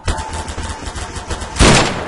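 Gunfire in the Garry's Mod DarkRP role-play game: a fast string of light, closely spaced shots crackles along, then one louder, fuller blast bursts near the end, all near and fairly loud with no voices.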